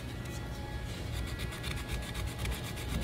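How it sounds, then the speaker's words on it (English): Steady close rasping of sandpaper rubbed back and forth over a wooden flintlock rifle stock, continuous strokes with no talking. "let's just go ahead and start sanding the stock now"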